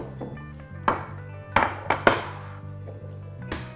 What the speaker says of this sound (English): All right, I'm gonna now crack a few eggs.